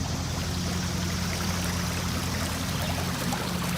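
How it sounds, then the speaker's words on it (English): A creek flows continuously beneath a stone arch bridge with a steady rushing hiss, even and close, with a low hum underneath and no voices. "it's always nice hearing that water"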